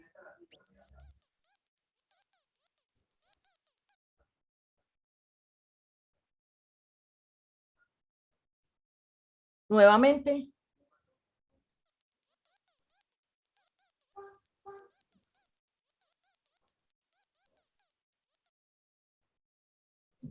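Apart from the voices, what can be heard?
crickets chirping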